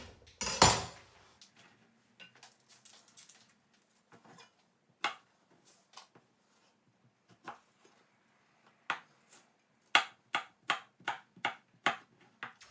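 A kitchen knife chops garlic on a cutting board, close and fairly quiet, in sparse taps that speed into a quicker run of sharp knocks toward the end.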